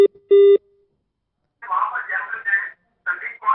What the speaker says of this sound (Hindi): एसके बग्गा बात कर रहे थे लेकिन अभी उनका फोन कट गया है